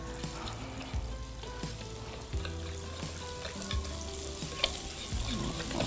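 Chicken ragout filling for risoles, with water just added, stirred in a pan over a steady sizzle, with a spoon scraping in repeated strokes about once a second close by.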